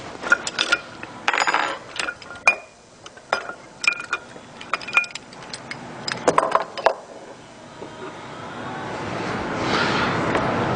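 Parts of an e-bike hub motor being handled and falling out onto a table: a run of metallic clinks, rattles and knocks, close and fairly loud, giving way to a steady rustling noise.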